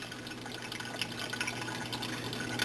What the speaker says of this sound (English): I'm going to remove them without squeezing the bag, but I will allow the juice to drip out